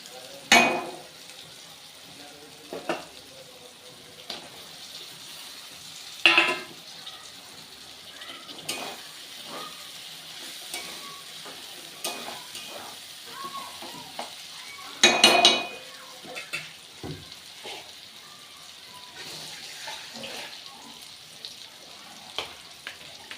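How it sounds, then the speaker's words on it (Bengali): Low steady sizzling of dried fish and chopped tomato frying in a pan, broken by intermittent clinks and scrapes of a utensil stirring against metal. "মাছটা ভাজা ভাজা হয়ে গেছে এবার আমি টমেটো কুচি দিয়ে দেবো"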